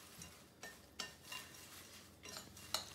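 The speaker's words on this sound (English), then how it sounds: "we're gonna take a spoon and just kind of mix it together" A spoon stirs granola bar ingredients in a bowl, making soft scraping strokes with a few sharper clinks against the side; quiet and close, with no talk.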